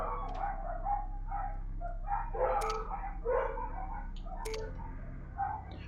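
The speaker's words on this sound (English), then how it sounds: "Calm down, dogs." Dogs bark repeatedly amid the mechanical drone and scattered effects of a MechCommander battle, with short sharp yelps rising above steady background noise.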